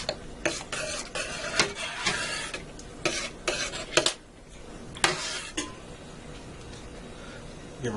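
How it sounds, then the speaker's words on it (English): A spoon stirs oregano through meat sauce in a pot, giving a series of soft, irregular scrapes and clinks against the metal with faint sizzling underneath, close and quiet. "And give that a stir."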